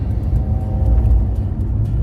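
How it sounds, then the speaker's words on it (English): An Alfa Romeo Giulia Super's small engine drones loudly with a low, throaty intake rumble, holding a steady pitch with slight surges. "coupled with this induction noise makes it probably one of the highlights of the car"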